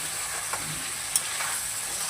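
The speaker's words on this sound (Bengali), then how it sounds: "এবার সব কিছু মশলাটাকে খুব ভালো করে নেড়ে নেব।" Spice paste thinned with a splash of water is stirred in a hot pan during home cooking, giving a soft continuous sizzle with a few faint scrapes of the spoon and no voices.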